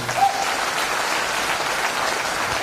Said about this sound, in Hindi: तो बजाइए ना अपने लिए धमाकेदार ताली।